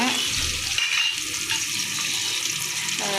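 Whole fennel seeds, cinnamon, cloves, cardamom and bay leaf fry in hot oil for a mutton gravy, giving a steady, loud, close sizzle with no pauses.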